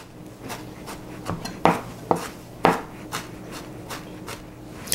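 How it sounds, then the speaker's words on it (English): Fresh ginger is minced with a paring knife on a board: soft scraping and rubbing punctuated by a few sharp, close knife taps at irregular intervals, with no voice over it. "I'm gonna start chopping this up, making it much smaller with my paring knife"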